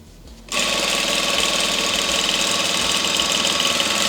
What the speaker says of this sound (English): Back stitch over that seam.